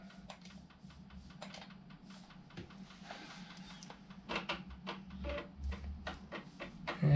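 An Amiga booting from an external IBM floppy drive set as DF2, with rapid irregular mechanical clicks and ticks of the drive heads seeking, growing louder and busier toward the end over a steady low hum.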